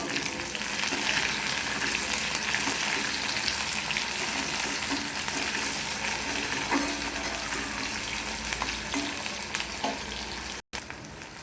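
Onion and tomato fry in a pan for a matki dal amti. A dense, loud sizzle holds steadily all the way through, with faint stirring taps under it and a brief dropout near the end.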